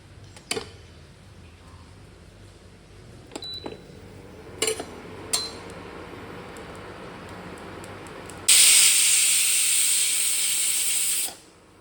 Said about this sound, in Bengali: একটু নেড়ে টেড়ে আবার দু তিনটে সিটি দিয়ে নেবো